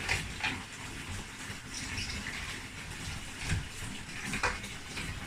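A plastic part from a Philips Moving Sound D-8304 radio cassette is sloshed and submerged in water during cleaning, giving continuous close swishing with a few splashy peaks.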